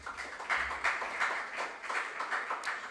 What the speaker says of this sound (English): Let's clap for Edna as she takes her seat